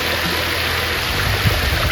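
Water pouring out through opened sluices into a flooded fishing area, a steady, fairly loud rushing flow heard alone for under two seconds.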